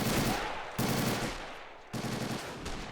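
Bursts of rapid automatic gunfire from a WW2 battle video game, three sustained volleys separated by brief pauses, loud and close with a dense crackling rattle.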